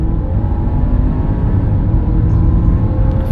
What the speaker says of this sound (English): You feel that turbo kick in though.